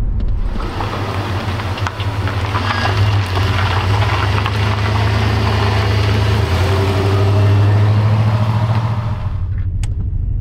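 A 1984 Chevrolet El Camino V8 idles close by with a steady, deep low rumble and an even throbbing pulse that holds for about ten seconds with no talking.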